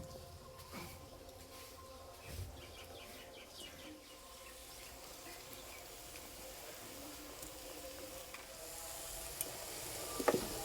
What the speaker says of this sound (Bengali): বাকিগুলো একই রকম করে ভেজে নেব।